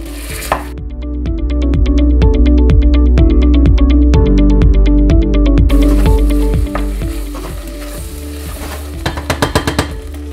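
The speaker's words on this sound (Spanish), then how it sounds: "vamos a echar nuestra cuña de queso y vamos a derretir un poquito" A wedge of Cabrales cheese melting in a hot pan, giving a loud, continuous sizzle with rapid crackling over a steady low hum, with a few clinks and scrapes toward the end.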